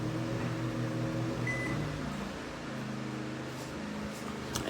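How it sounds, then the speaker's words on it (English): A microwave oven hums steadily while powered by a small Oxseryn 4400-watt gas inverter generator, giving a low, even electrical drone with faint mechanical tones over a constant background. "Microwave working."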